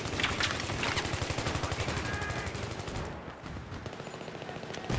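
Rapid automatic gunfire in the video game Battlefield 3 rattles continuously at close range, loud bursts with a brief lull before resuming.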